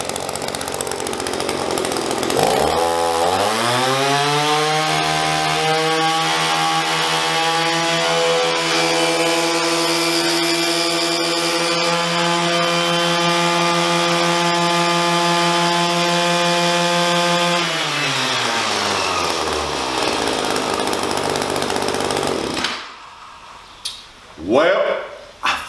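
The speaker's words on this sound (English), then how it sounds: "I'm going to let you hear this 28cc engine roar and tell me what you think." Echo BRD 280 28cc two-stroke engine sputters into life after a couple of pulls, then runs at a steady, loud high-pitched drone for about fifteen seconds before dropping back to idle and stopping, followed by a few handling clunks.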